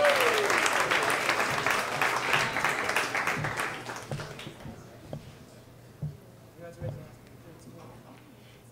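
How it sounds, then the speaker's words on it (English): Applause from a live storytelling audience swells loud at first, then thins and fades over several seconds into scattered claps and room noise. "Bigger round of applause for Jamie Brickhouse."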